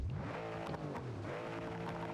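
A car engine revs in BeamNG.drive drag racing, a steady droning roar with rising and falling harmonic pitch, close and continuous with no talking.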